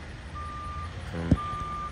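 Reversing alarm beeps steadily from a truck towing a tractor, a long tone sounding against a low engine rumble, broken by a brief nearby thump.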